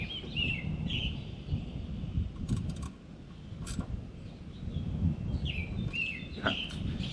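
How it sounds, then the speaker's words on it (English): Birds chirp outdoors in short, scattered calls over a low background rumble near a workshop, fairly faint, with occasional clicks and no speech. "The birds chirping."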